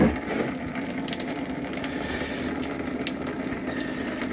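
Orange coolant draining out of a 2013 Ford Edge 3.5L engine, a steady close splashing and trickling of liquid that runs continuously and evenly throughout, with no talking.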